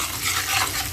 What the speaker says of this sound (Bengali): পেঁয়াজ দিয়ে ভালো করে কষে নিলাম